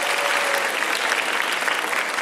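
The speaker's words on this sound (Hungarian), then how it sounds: "hát akkor még egyszer tapsoljuk meg" An audience at the Mondocon 2017 spring performance cosplay contest applauds, with dense, continuous clapping from many hands filling the hall at an even level.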